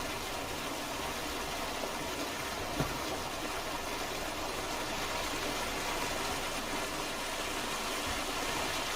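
Steady broadband hiss like loud running water in Farming Simulator 19, near the chicken coop, an even unchanging rush throughout with a single faint tick partway and no voices.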